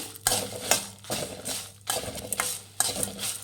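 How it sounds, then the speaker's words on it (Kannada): Coriander seeds being fried on low flame in a pan for sambar powder, heard as repeated scraping stirs with a spatula and light rattling of seeds, coming in bursts with short pauses between strokes. "ಧನಿಯಾನು ಚೆನ್ನಾಗಿ ಫ್ರೈ ಮಾಡಿ."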